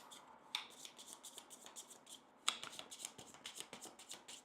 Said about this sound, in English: so we're going to shuffle these.